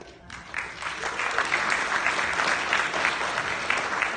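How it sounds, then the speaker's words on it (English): A standing ovation after a Bharatanatyam arangetram: dense, loud applause from a large audience that swells in quickly and holds steady throughout. "you have a well-deserved standing ovation"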